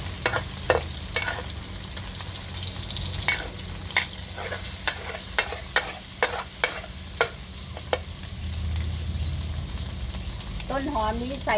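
Pork stir-fried in a pan alongside ridge gourd, with a steady frying sizzle and repeated sharp scrapes of the spatula, plus a brief voice near the end.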